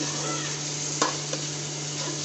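Ground ginger, garlic and cumin paste sizzles steadily in hot oil for prawn malai curry, with a couple of sharp spoon scrapes as it is stirred.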